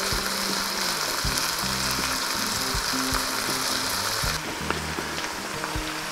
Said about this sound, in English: you want to get this cooking for about a minute. Just simmering, I should say